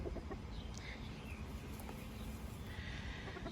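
A rooster makes faint, scattered clucks during a bath, set against a constant noisy outdoor background, with a few brief higher calls standing out.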